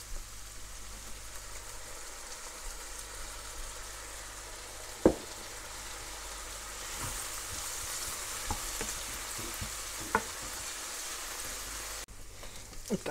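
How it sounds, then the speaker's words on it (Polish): Steady crackling sizzle of sauce frying in a pan with olives, with occasional clinks and stirring scrapes, fairly close and continuous. "W trakcie smażenia dodajemy taki oto sosik."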